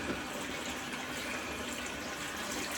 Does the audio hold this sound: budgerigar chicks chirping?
no